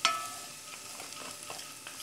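Jollof rice sizzles and crackles steadily in a hot pan, with soft scraping as it is stirred, no voices present.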